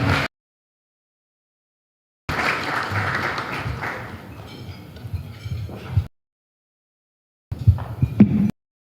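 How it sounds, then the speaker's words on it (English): Wedding reception guests applaud the best man in a burst of clapping of several seconds with faint clinks of glassware, set between near-silent gaps, and a second brief round of clapping follows near the end. "please give a round of applause to the best man"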